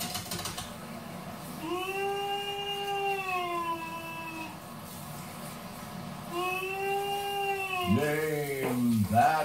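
A camel groans and bellows in long, wavering drawn-out calls, one stretching for several seconds and another following after a pause, rising into rough strained cries at the end over a steady background hum.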